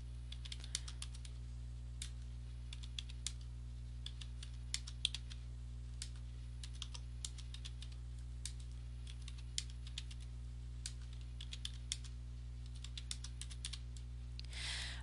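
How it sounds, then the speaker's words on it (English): Quiet, steady typing on a computer keyboard while entering data, light key clicks in irregular bursts with occasional firmer strokes like the enter key, over a low constant hum. "Okay, so I just type in the data and hit enter after each entry."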